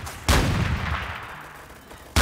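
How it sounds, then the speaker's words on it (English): Two sharp, loud sniper rifle shots in the video game Apewar, one near the start with a long rumbling decay and another cutting in at the very end. "I just got sniped"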